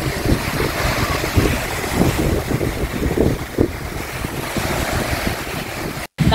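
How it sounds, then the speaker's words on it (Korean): Strong ocean waves at Tubod Beach on Siquijor, a loud continuous wash of surf mixed with heavy wind buffeting the microphone, with no voices over it. "아 진짜 파도 세네요."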